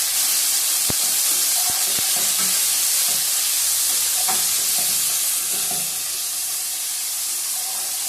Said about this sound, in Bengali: এক চামচের মতো ভালো করে ভেজে নেব